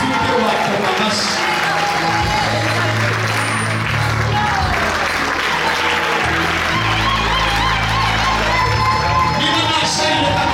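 A church congregation claps together in sustained, loud applause that fills the room, while a voice speaks over the clapping.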